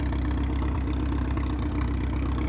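The vintage vehicle Pacemaker's engine idles at an open day, a steady low rumble that is loud and close, unbroken and without talk.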